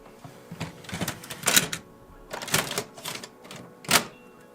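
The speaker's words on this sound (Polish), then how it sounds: "Zamykamy klapę." The cover of an HP Color LaserJet Pro MFP M477fdw printer is closed after a toner change, giving a close series of plastic clacks and rattles that ends in one sharp snap.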